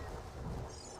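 A deep thunder rumble with rain noise rolls through briefly, summoned by the Song of Storms in Zelda: Ocarina of Time; faint and dense, with no voices.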